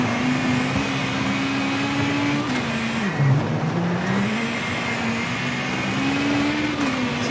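A rally car engine in the V-Rally 4 racing game holds high revs with a steady droning whine, dipping briefly as it shifts gears and then climbing back, with tyre and road noise underneath.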